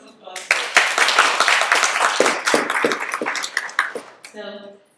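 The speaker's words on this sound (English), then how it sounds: "Give him a round of applause." An audience claps for a participant at a London seminar, a dense burst of many hands that swells, holds steady, then fades, with a voice speaking briefly at the end.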